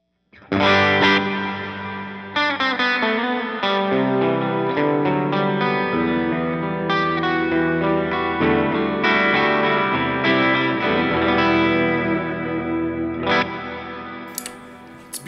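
Clean electric guitar tone played through a Line 6 Helix with reverb trails, sustained chords and single notes ringing out loud and continuous, each phrase washing into a lush reverb tail that lingers as notes change.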